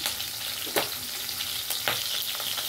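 Green chilies fry in hot oil with a steady, dense sizzle, broken by two brief louder crackles or stirs, with no voices.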